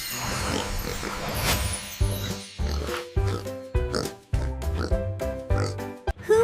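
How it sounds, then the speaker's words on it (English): A pig oinks and grunts in a rapid series of short, snorting bursts with brief gaps between them, close and loud. "It's a pig."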